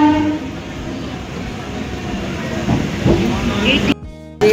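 Inside a moving train near Naihati, a constant loud rumble of the carriage with rhythmic rattling and a brief high tone, cutting out sharply near the end; voices are heard faintly.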